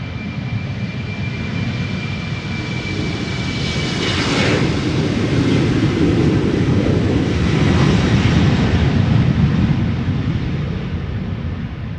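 Jet airliner engines at Amsterdam Schiphol Airport roar as a plane takes off, a loud, close, broadband rumble that swells and holds, with a rising whine as it passes.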